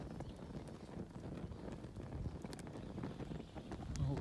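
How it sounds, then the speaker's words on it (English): Strong wind gusts across a campsite beside an improvised hobo stove, a steady low rumbling buffet on the microphone with no voices. "there is a strong wind coming from the right to the left here"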